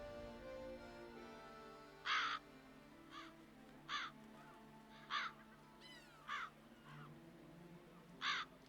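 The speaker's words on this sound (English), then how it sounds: "Alright, loads of crows." Crows caw repeatedly in The Witcher 3: Blood and Wine, about six harsh calls spaced roughly a second apart over a steady ambient game backdrop, moderately loud and clear.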